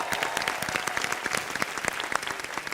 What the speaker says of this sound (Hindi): आइए जोरदार तालियों से स्वागत करते हैं पद्मश्री डॉक्टर अशोक चक्रधर जी का